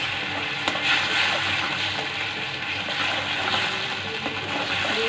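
A spice paste with ground lentil paste is stirred and fried in a pan, giving a continuous close hissing sizzle with soft scraping throughout.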